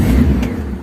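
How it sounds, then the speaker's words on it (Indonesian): A Daihatsu Zebra Espass car engine, its gas pedal pumped before starting, gives a brief, steady low rumble heard close by with no voices. "Kita nyalakan mobilnya, harus diinjak-injak dulu pedal gasnya"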